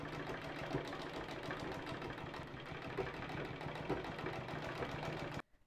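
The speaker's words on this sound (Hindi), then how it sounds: "इसके ऊपर दाब सिलाई देते हुए स्टिच कर लेंगे।" A sewing machine stitches fabric for a sling bag, a fast continuous mechanical whirring and knocking at close range that runs steadily for about five seconds and then stops abruptly.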